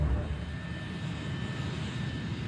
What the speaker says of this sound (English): Flight 587 begins to taxi to runway 31L